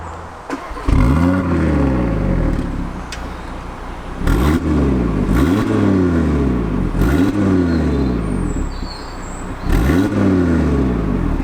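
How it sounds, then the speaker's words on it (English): A 2020 Audi RS3 with a 2.5-litre turbo engine revs hard several times, each throttle blip rising and falling in a loud, close, repeated exhaust roar with a steady idle between. "It's just not enthusiastic enough on the old exhaust note"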